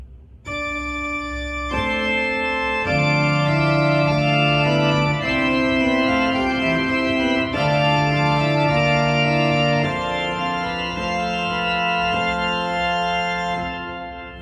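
A pipe organ playing a slow passage on a small plenum, steady sustained chords changing every couple of seconds, full and resonant with no talking.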